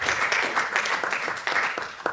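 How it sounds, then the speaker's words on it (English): Moderate applause from an audience at an education seminar, a steady patter of clapping that stays even throughout, heard from a little distance. "Round of applause."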